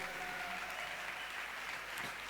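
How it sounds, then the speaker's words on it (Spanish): An audience at a talk claps steadily, a dense, even wash of applause held at a constant level from start to finish, with no voices over it. "A ver, un aplauso para la producción de los jóvenes."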